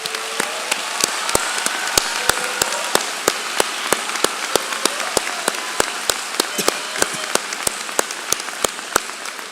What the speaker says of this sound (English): Will all the student athletes who are taking part in this ceremony please stand for one last round of applause from your FAU fans?